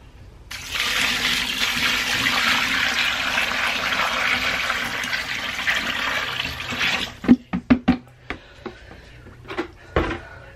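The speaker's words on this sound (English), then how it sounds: "So my leftover soda ash in my bucket, I'm going to pour in here." Leftover soda ash water poured from a bucket into a container, a steady splashing gush for about seven seconds that stops abruptly and is followed by a few scattered drips, knocks and clunks.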